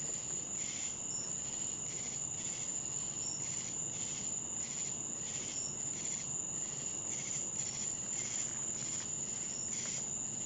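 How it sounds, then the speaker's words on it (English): Crickets and other insects chirp at night by an abandoned cemetery, a dense, continuous high pulsing trill that stays steady and even throughout with no other sounds. "Insects."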